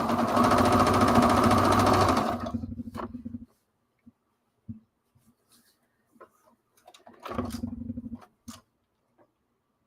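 Sewing machine stitching fabric, a fast continuous mechanical whir for about three seconds, then quiet with small clicks, and a second short burst of stitching later.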